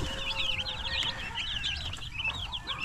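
Chickens cluck in a chicken coop, a fairly faint, continuous run of chattering clucks with no voices over them.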